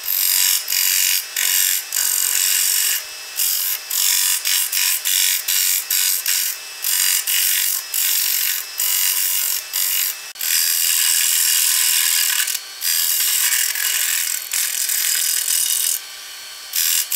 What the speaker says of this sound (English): I'll use the other square cutter.